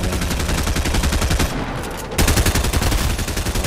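Rapid automatic fire from the player's gun in the video game Fortnite, loud and close, a steady stream of evenly spaced shots with a brief dip in the middle before resuming.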